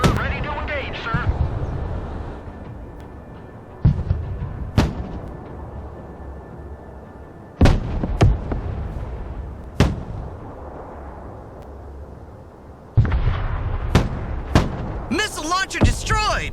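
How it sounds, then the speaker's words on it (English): In the video game Broken Arrow, mortar and artillery fire lands as sharp, loud booms at irregular intervals over a rumbling battlefield. A rapid cluster of blasts comes near the end, and voices speak in between. "Mortar ready to engage, sir."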